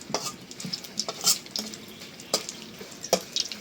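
Dried chilies fry in oil in a pan on a stove, giving a steady close sizzle broken by scraping stirs and clinks of a utensil, with no voices.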